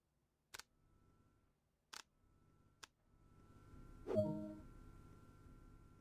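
In the Train Sim World BR 155 electric locomotive cab, the battery isolation switch gives three sharp, separate clicks in a quiet setting, followed by a rising electrical hum and a louder clunk as systems power up.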